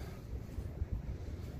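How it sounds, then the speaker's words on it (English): Strong outdoor wind buffets a microphone during winter shooting near a chronograph, a heavy low rumble with gusty thumps that runs continuously and loud for the whole short stretch, with no talking. "Oh, so windy."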